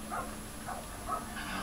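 A dog in the Lego Harry Potter video game gives three short barks with a small yip, evenly spaced and clear over a faint steady background hum.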